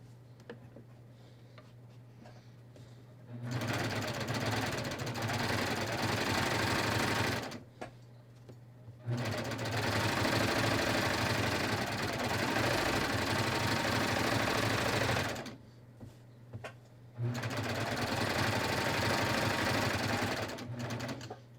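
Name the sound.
sewing machine stitching a pocket onto shorts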